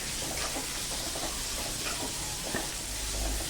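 Onion sautéing in a pan with salt for a spicy tomato sabji, a steady soft sizzle with faint stirring scrapes, close and continuous without talk.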